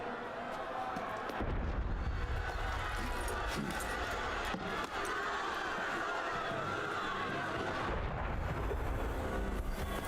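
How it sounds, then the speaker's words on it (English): Deep booming rumbles of cannon fire in a video game, heavy low thuds rolling under a dense crackling wash, with a few sharper hits and a muffled voice at times. "That was cannon fire."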